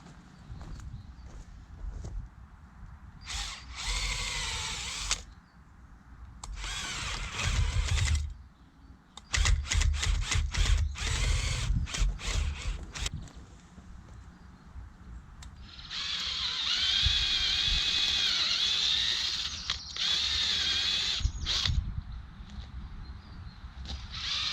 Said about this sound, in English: show me drilling doing these